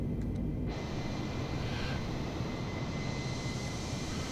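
An Airbus A320neo climbs after takeoff in Microsoft Flight Simulator 2020. Its jet engines make a steady, broad, low roar that holds even throughout, with a brief higher tone near the start and no voices.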